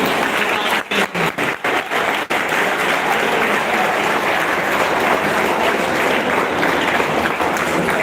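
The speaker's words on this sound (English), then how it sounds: "Once a big round of applause for you" Loud, close audience applause at a student club event, a continuous dense patter of many hands, with a few sharp dips early on before it settles into an even roar.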